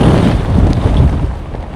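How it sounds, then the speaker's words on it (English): Strong wind at Easedale Tarn in the Lake District buffets the microphone in a loud, continuous low roar that swells and eases slightly, with no voices present. "it's very windy here, very windy"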